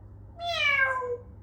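A cat gives a single clear meow lasting about a second, rising then falling in pitch, close and loud against a quiet background in a home where a child is being coaxed to imitate animal sounds.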